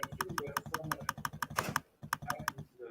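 Keys clatter on a computer keyboard in quick, evenly spaced strokes, recorded close and clear, with a short pause partway through before the tapping resumes.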